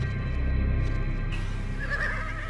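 Horse whinnying in a documentary on prehistoric Ice Age horses that spread across Eurasia, a clear neigh rising over a steady low rumble, with a brief higher whinny near the end.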